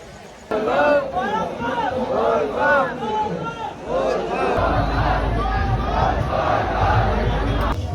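A crowd of Bol Bam pilgrims packs a temple at Bhoramdev, with loud chanting voices and chatter rising together and a steady hubbub that lasts throughout.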